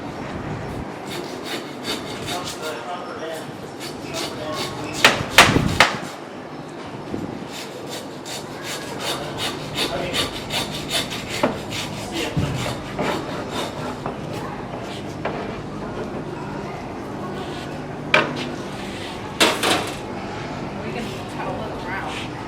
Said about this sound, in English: We're going to use a handsaw to cut that off.